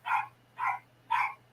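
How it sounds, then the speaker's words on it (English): A dog barks three times in an evenly spaced series, fairly close and moderately loud, over a faint low mains hum. "Shut that dog up."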